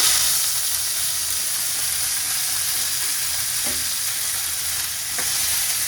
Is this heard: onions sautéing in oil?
yes